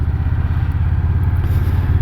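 An Indian Scout Bobber Twenty motorcycle rides along in second gear, its engine giving a steady low rumble with constant loudness and no revving, heard alone.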